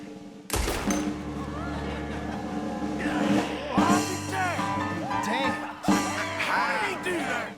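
A sharp gunshot cracks out in Red Dead Redemption 2, followed by further bangs at intervals, while someone talks over the game sounds.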